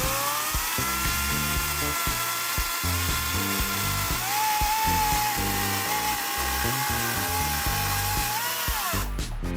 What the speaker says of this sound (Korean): 요 나무도 한번 잘라 보겠습니다